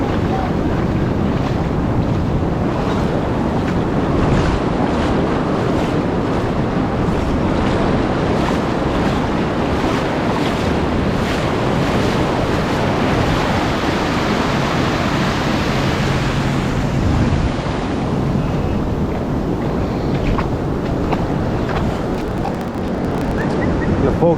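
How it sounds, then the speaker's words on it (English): Rough ocean surf pounds the beach at La Libertad, El Salvador, a loud, unbroken roar of crashing waves mixed with heavy wind buffeting the microphone throughout. "waves are a little bit rough today"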